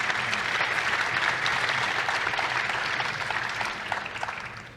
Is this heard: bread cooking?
no